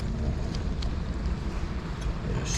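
A fishing boat's engine runs in heavy rain near a surf fishing spot, a steady loud drone blended with the hiss of rain and wind buffeting the microphone throughout.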